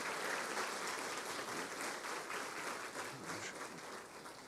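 A church congregation applauds steadily, a soft, diffuse wash of many hands clapping at a distance that gradually tapers off toward the end.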